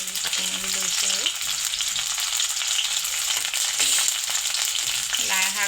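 Malabar spinach and potatoes sizzle steadily in hot oil in a home kitchen, a dense continuous frying hiss with occasional stirring scrapes, close and loud with no talk.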